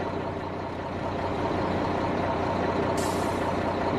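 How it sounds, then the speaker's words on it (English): A Cummins N14 diesel truck engine in a Mack R within American Truck Simulator drones at a steady loud rumble, with a short hiss of air near the end and no speech. "The N14 sounds so nice in this truck."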